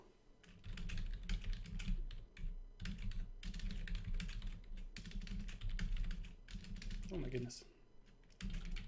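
Rapid clattering keystrokes on a computer keyboard in quick irregular bursts, close and clear, with a brief exclamation from a voice near the end.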